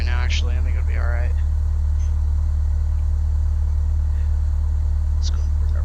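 A Cessna 172 propeller engine drones at a steady, constant low pitch in the flight simulator FSX, running throughout with a voice speaking briefly near the start.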